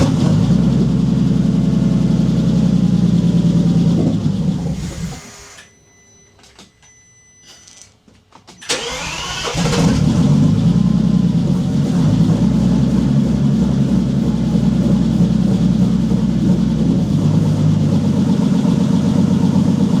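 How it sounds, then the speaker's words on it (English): A Bentley Continental GT fitted with a swapped engine that misfires slightly idles loudly and close, falls quiet for a few seconds, then cranks and restarts into a steady, slightly uneven idle. "film the engine when it starts"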